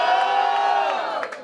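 Crowd cheering and shouting at a Brazilian freestyle rap battle in Londrina, a loud, sustained roar of many voices with whoops rising near the end.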